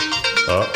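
A phone rings nearby with a short, bright electronic tone pattern, several quick pulses sounding loud and alone over a brief moment.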